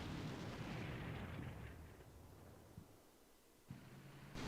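Artillery line barrage firing in the video game Combat Mission: Shock Force 2, a heavy continuous rumble of distant blasts fading gradually, with a couple of sharper thuds near the end.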